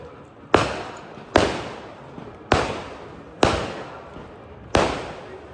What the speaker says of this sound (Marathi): फटाके फुटत आहेत